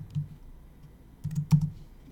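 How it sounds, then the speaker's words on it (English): A computer keyboard is typed on in a few quiet, scattered bursts of soft keystrokes, near and alone in a hushed room. "it might sound like I'm pounding on my keys"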